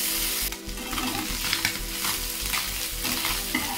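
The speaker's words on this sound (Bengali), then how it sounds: "দ্বিতীয় ব্যাচের মাছটা এবারে তেলে দিয়ে দিলাম। ঠিক ওই একইভাবে হালকা হাতে ভেজে নিতে হবে।" Tangra fish sizzle loudly in hot oil, a dense continuous crackling fry heard up close, with a low rumbling hum beneath and no one talking.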